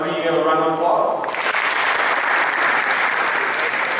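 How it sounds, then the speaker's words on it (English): Applause at a football awards ceremony breaks out after a brief tonal musical sting, then loud, dense clapping from a crowd fills the room and carries on steadily to the end. "give Dury a round of applause"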